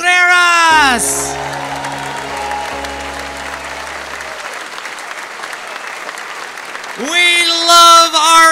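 Audience applause with cheering and whoops at a Christmas holiday concert in Tucson, greeting a high school mariachi educator; steady clapping fills the clip while music fades at the start and another piece starts near the end.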